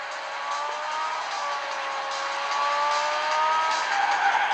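Racing car in Asphalt Injection on PS Vita braking hard, its tires squealing in a rising, sustained screech over engine drone that grows louder toward the end.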